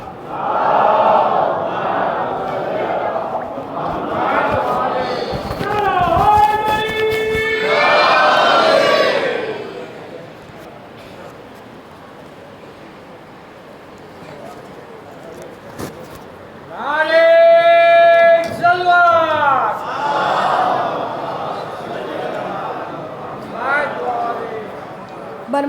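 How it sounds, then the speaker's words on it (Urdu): An audience at a Shia devotional celebration in an imambargah chants the salawat in unison, rising in two loud massed surges of voices with murmuring and background crowd noise between them. "آپ حضرات بلند ترین نعرے صلوات سے استقبال فرمائیں۔"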